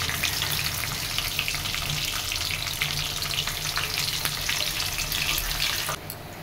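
Onions frying with whole garam masala in a pan, a loud, dense, continuous sizzle close up that cuts down slightly near the end, with no talking.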